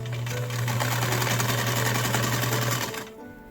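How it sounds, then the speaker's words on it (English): A sewing machine runs continuously for about three seconds stitching the back seam of corset back panels, a close steady motor hum with rapid needle rattle that stops abruptly near the end. "Next I stitched the back panels together, but only the back seam"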